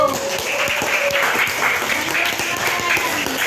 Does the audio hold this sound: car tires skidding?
no